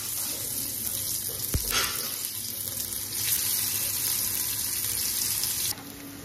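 Bitter gourd frying in ghee, a steady close sizzle throughout with a sharp knock near the start and the hiss briefly intensifying midway before dropping slightly at the end; no talking.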